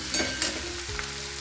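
Cut okra (bhindi) frying in a pan, a soft steady sizzle with a couple of brief clinks or stirring scrapes near the start, close and fairly quiet, with no voices.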